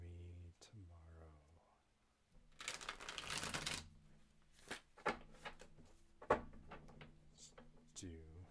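Tarot cards are shuffled and cut in a quiet room, a close, crisp riffling burst followed by lighter soft taps and slides, with a voice speaking softly before and after.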